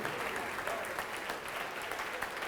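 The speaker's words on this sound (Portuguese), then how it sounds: "vamos aplaudir mais" A church congregation applauds in steady, dense clapping that fills the space at an even level throughout, with faint voices mixed beneath.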